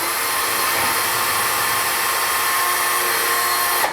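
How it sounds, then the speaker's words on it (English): A Little Crow Gunworks case trimmer spun by a power drill trims a brass rifle case, giving a steady, loud, close whirring grind that holds evenly for about four seconds and then cuts off abruptly at the end. "This is the Little Crow Gunworks World's Finest Case Trimmer. Works really well for me, just on any kind of drill."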